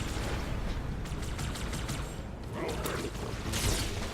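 Rapid bursts of gunfire from a Halo 2 firefight, a steady crackle of repeated shots with a louder flurry near the end, dense and continuous under the game's background din.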